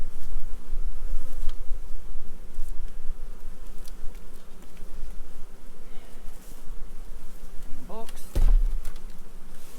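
Honey bees swarm around an opened hive during a colony split in an apiary, a loud, dense, continuous buzz close by with individual bees passing near, and a brief knock partway through.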